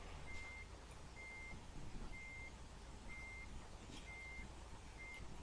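A big truck reversing out of a driveway in American Truck Simulator, its reversing alarm beeping at a steady interval over a low engine rumble.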